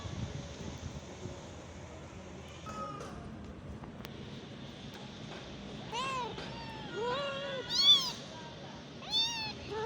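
Young kittens meow repeatedly, their thin rising cries coming in bursts and getting louder toward the end, over faint background noise with no talk.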